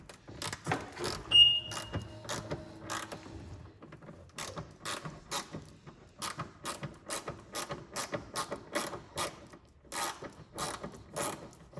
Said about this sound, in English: loosen these bolts up